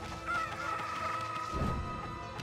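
Chicken clucking from the video game Okami HD, a busy burst of fowl calls layered over game music and effects, steady and moderately loud throughout.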